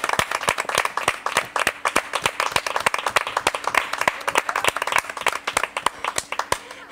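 An audience at a local television program in a Spanish town claps in a steady, rhythmic unison beat, sharp and fairly close, with a fuller wash of applause under the regular claps and no speech.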